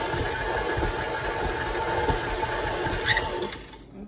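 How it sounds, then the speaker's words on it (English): A stand mixer kneads cinnamon roll dough and labours under the load, giving a steady, moderately loud motor drone with a faint rhythmic knocking, heard alone and close. "Sounds like the mixer is getting a little labored there."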